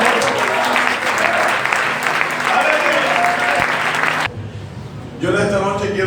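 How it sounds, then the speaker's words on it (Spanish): Loud, sustained applause from a congregation at a Spanish-language evangelical church service, cutting off abruptly near the end before a brief swell of voices returns. "Habrá un aplauso para el Señor."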